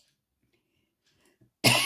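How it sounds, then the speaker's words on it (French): After near silence, a single sharp cough bursts out close and loud at the end. "Excusez-moi, je tousse un peu."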